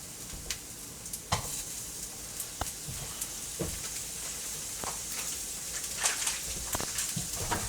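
Butter sizzles in a hot pan for steak French-dip sandwiches, a steady close crackle with scattered sharp pops and stirring scrapes throughout, no voices.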